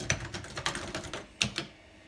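Keys clatter on a Commodore Amiga 2000 keyboard during a clean-up test, a quick run of close, crisp clicks with a couple of sharper strokes near the end, no talking.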